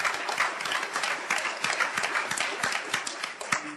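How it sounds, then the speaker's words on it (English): Audience applause after a set of conversations at a Colorado health care innovation event, a steady patter of many hands clapping at moderate level with a few sharper claps standing out. "Let me give you all a round of applause for just a great set of conversations."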